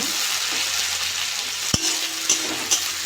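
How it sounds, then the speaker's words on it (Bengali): Onion and green chilli fry in hot oil in a pan, a continuous bright sizzle broken by a sharp utensil knock and a few stirring scrapes, with no talking. "পেঁয়াজটা একটু ভেজে নিয়েছি"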